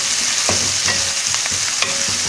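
Sliced onions dropped into well-heated oil, sizzling and crackling loudly up close while a utensil stirs them in a few distinct strokes.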